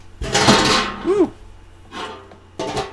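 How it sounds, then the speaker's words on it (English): A foot strikes a trash can indoors, producing a few loud, hollow knocks and clatters with a ringing resonance, separated by short pauses. "I hit my trash can with my foot."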